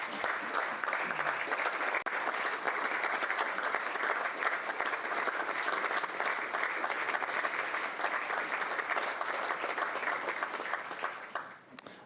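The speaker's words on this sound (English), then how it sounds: "That's more applause than I've ever gotten." A large Nashville crowd at a civic soccer presentation gives long, steady applause, a thick wash of many clapping hands that runs for about twelve seconds before thinning out at the end.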